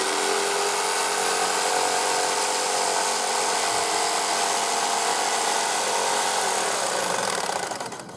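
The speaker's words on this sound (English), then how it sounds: "So the jigsaw goes into the hole, and your job is now just to follow that line all the way around" A jigsaw cuts a circle in wood with a continuous, loud, buzzing rasp that holds steady close up and eases off only at the very end.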